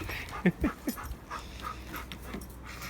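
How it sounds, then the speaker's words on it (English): Dogs panting and whimpering in a Japanese-style gravel garden, a few short close yelps and breathy pants spread over a few seconds, fairly quiet. "These dogs don't like Zen gardens."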